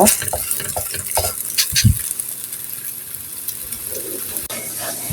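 Oil frying in a pan for potato and egg paratha, a soft sizzle with intermittent scrapes and clatters of utensils against the pan, close and moderately loud.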